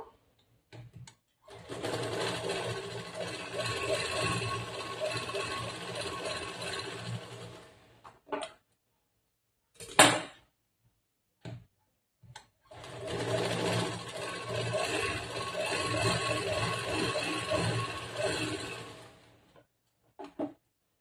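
Sewing machine double-stitching a blouse collar, running in two long steady bursts separated by a pause with a few clicks and a sharp knock; close and loud, no talking.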